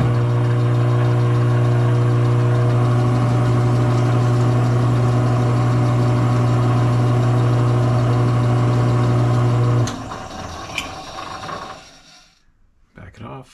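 A lathe cutting metric threads runs with a loud, steady mechanical hum and drone for most of the time, then cuts off and winds down to a few clicks and quieter rattles before falling silent.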